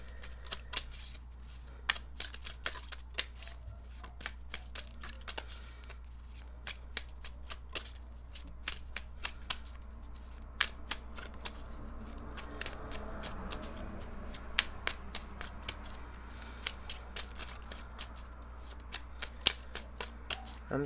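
A deck of tarot cards is shuffled by hand in a long run of crisp riffles and soft taps, close and fairly quiet, with no talk.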